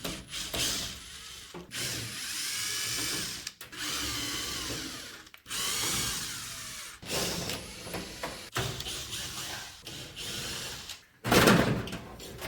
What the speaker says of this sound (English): the drill will work fine if it's in reverse